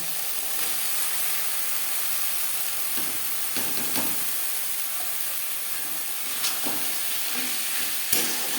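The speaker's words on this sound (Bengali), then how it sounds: "তিন চার মিনিট মিডিয়াম ফ্লেমে মশলা কষিয়ে নেওয়ার পর দিয়ে দেবো চিনির বিচি" Bean seeds added to spices frying over a medium flame in a pan for a Bengali fish curry: a loud, steady sizzle and hiss throughout, with a few brief stirring clatters.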